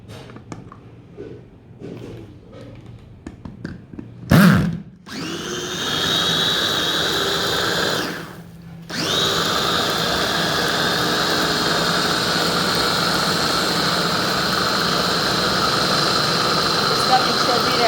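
Mixer grinder whirring steadily as it blends water into a cold, spicy homemade summer soda, a loud continuous motor drone with a brief stop partway through, while a person talks over it.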